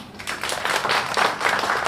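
Brief scattered clapping from a small church congregation welcoming a guest before a sermon, a steady patter of hands lasting under two seconds.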